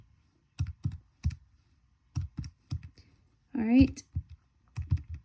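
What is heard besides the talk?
typing on a computer keyboard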